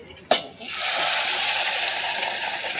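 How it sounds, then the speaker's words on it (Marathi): Boiled dal is tipped onto hot tempering for amti: a sharp splash at first, then a loud, steady hissing sizzle that holds for the rest of the moment. "डाळ घालायची फोडणीवरती"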